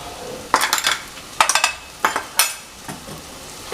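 A spoon stirs garam masala with beef in a clay pot for Kerala-style beef varattiyathu, giving several close scraping and clinking strokes in irregular bursts over a light sizzle.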